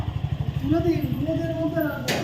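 A motorcycle engine idles with a steady low putter while a person talks close by.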